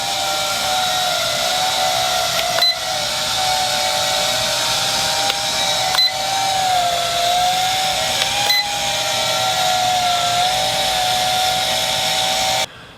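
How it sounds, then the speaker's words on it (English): A small drone draped in a cloth ghost costume hovers with a steady, loud, high-pitched propeller whine that wavers slightly in pitch, continuous and close throughout with a few brief dropouts and no speech. "And here goes the ghost drone."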